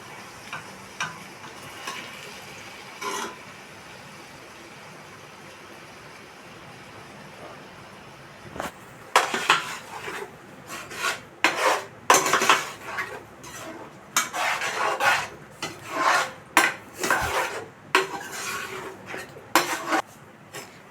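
Curd being stirred into kushka in a metal pot, with repeated close spoon-on-pot clinks and scraping in irregular bursts after a quieter opening stretch; no talking.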